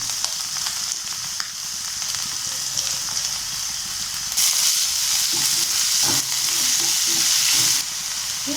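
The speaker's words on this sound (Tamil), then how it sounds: "வெங்காயமும் பச்சை மிளகாவும் போட்டுக்கலாம்." Onion and green chilli frying in a pan: a continuous sizzle that turns louder and brighter midway, with intermittent spatula scrapes and knocks near the end.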